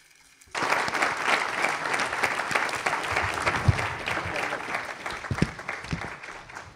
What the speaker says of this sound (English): Can we thank our panelists with a round of applause?